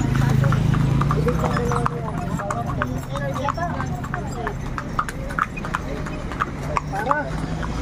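A horse's hooves clip-clop on pavement in a steady walking rhythm, close and clear, while people talk over them and a low motor hum runs underneath.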